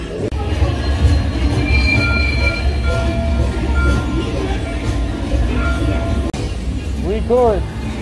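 A theme park train at Hollywood Studios rumbles along its rails with a steady low roar, faint squeals and clanks, and a brief high wheel screech near the end.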